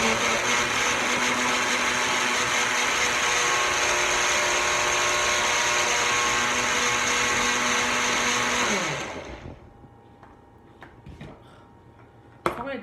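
A countertop blender runs loud and steady, mixing a chocolate smoothie, then winds down and stops after about nine seconds, leaving faint clinks and a sharp knock near the end.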